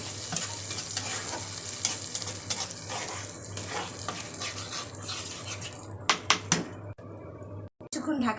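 Grated tomato sautéing and being stirred in a pan for a black cumin fish curry, with a steady close sizzle and scraping stir strokes throughout, a few sharper utensil knocks near the end.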